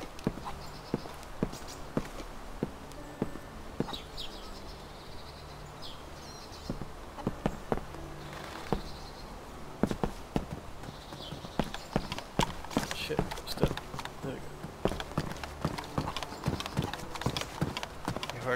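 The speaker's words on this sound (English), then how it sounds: "I heard footsteps. Probably my footstep." Footsteps of a character in the video game DayZ, clopping hooflike and rhythmic at close range over a low outdoor ambience with faint insect sounds, growing denser and louder toward the end.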